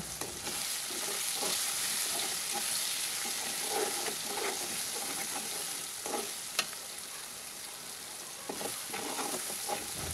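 Ground spices with turmeric, chilli powder and salt being fried and stirred in a pan for pangas fish curry, making a steady sizzle with soft intermittent scraping and stirring.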